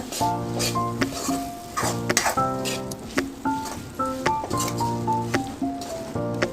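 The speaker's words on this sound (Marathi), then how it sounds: "आता याच्यामध्ये मी एक चमचा चिंचगुळाची चटणी घालून घेते आता आपण परतून घेऊया" Mixed vegetables sautéed in a pan with a spoonful of tamarind-jaggery chutney, heard as repeated metallic clinks and scrapes of a spoon against the pan in an uneven rhythm over a faint sizzle.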